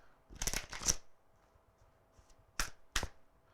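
Tarot cards shuffled by hand, two short riffling bursts, the first of about three quick flutters and then two more snaps a moment later, close and crisp against near silence.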